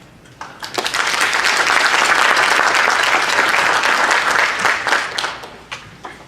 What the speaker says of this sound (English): And for that, I applaud you and I thank you very much.